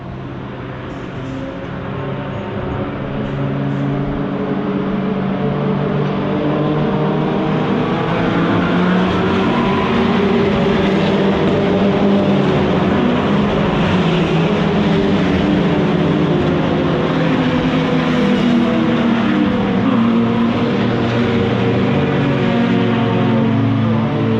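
Racing cars, including a Golf and an RS3, streaming past at Silverstone as the field follows the safety car in, a loud continuous roar of overlapping engines building and droning on without talk.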